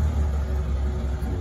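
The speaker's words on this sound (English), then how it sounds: "Pretty nice little forklift." Hyster forklift engine idling steadily, a low, even rumbling drone close by with no voices over it.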